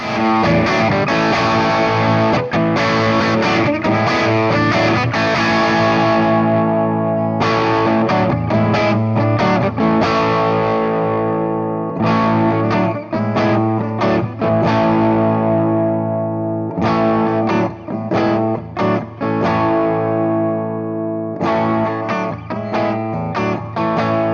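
Electric guitar, a 2024 Squier by Fender X Hello Kitty Stratocaster, run through a Fractal FM9 multi-effects processor, playing sustained distorted chords and riffs with brief breaks between phrases, loud and continuous.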